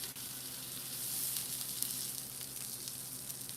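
Meat sears in a hot pan with a steady, close, crackling sizzle that holds evenly throughout, scattered with tiny pops and spits and no voices.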